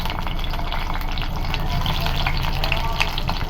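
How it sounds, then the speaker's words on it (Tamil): Garlic fries in oil, after two chillies were fried in the same oil, giving a steady, close crackling sizzle with small popping bursts and occasional stirring, continuous throughout with no talk. "பூண்டும் நல்லா ஃப்ரை ஆகும்"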